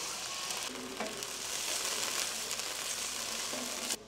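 Local mushrooms sautéing in a pan for restaurant-style pasta give a steady, close, dense sizzle and crackle throughout, with a few soft stirring scrapes and no voices.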